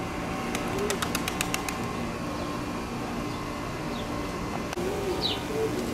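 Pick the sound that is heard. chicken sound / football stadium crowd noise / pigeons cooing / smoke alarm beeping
pigeons cooing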